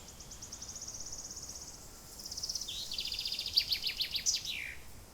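Bird song and chirps loop over a steady wind ambience in a Unity game soundscape, with a trill of calls rising midway and bright tweets repeating near the end, moderately close and clear.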